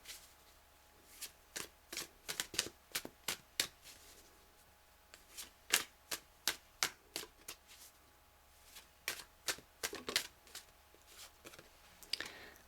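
Tarot cards riffled and snapped during a reading, a run of crisp, sharp card flicks in irregular bursts with brief pauses between, close and fairly quiet in a still room.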